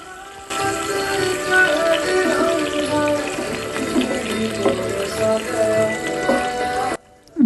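Marinated chicken pieces hit hot oil with fried whole garam masala and sizzle loudly and steadily for several seconds, a dense crackling hiss that cuts off abruptly near the end.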